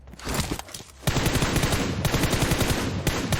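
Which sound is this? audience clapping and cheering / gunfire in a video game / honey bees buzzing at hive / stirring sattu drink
gunfire in a video game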